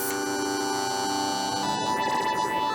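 A steady Moog Spectravox synthesizer drone with many bright, stacked harmonics abruptly changes character partway through as its carrier switches from hiss to buzz, shifting to a buzzier, rougher tone.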